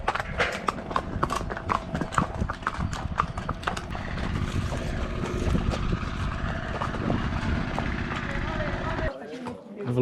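Horse hooves clip-clop steadily on a trail ride at Inle Lake in Myanmar, with wind buffeting the microphone and people talking over the rhythmic steps until a brief quieter stretch near the end.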